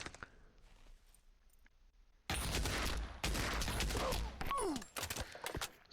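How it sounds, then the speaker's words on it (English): Gunfight in the video game Pavlov on the map Mirage: quiet at first with a few faint clicks, then loud sustained bursts of automatic gunfire that break off briefly and resume close by. "It's just a gunfight."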